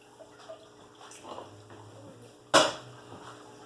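Beef broth is poured over a smoked chuck roast, a sudden wet splash that lands sharply near the end after quiet kitchen rustling and small clinks.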